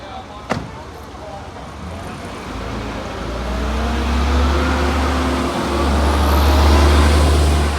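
A Volvo B10TL Super Olympian double-decker bus engine idles loudly with a deep, steady rumble that swells as it revs up to pull away, after a sharp click near the start.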